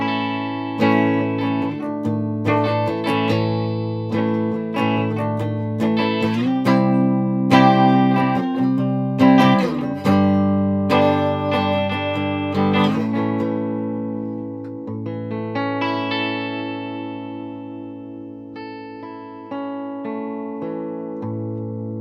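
A clean-toned Epiphone SG '61 reissue electric guitar, made in Japan in 1998, played through an Orange Dark Terror amp, ringing out sustained chords and single notes with long decays, close and steady, with no talk.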